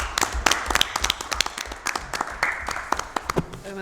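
Scattered applause fills a municipal council meeting room, honoring the La Malbaie hospital team, with a modest number of distinct claps rather than a dense ovation, brief and fairly close.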